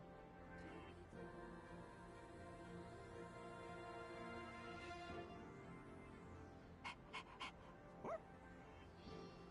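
A video game dog pants softly and steadily in a quiet scene, with a faint musical bed and a few brief clicks near the end.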